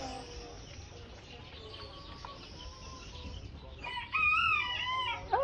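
A rooster crows loudly near the end after a stretch of soft clucking and farmyard background noise, with no talking.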